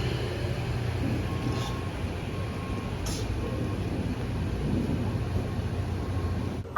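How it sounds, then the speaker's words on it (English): Rain falls with thunder, a low continuous rumble and wash of noise under a few faint brief clicks, steady and moderately loud with a sharp knock at the very end. "Finally! I've been waiting for the rain this whole goddamn day."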